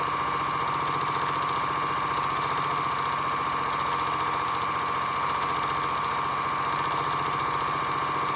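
A sewing machine runs steadily, stitching fabric strips for crumb piecing, with a constant motor hum and a rapid needle chatter that swells and eases slightly in regular pulses. It is alone, without voices.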